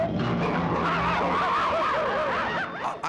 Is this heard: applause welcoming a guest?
no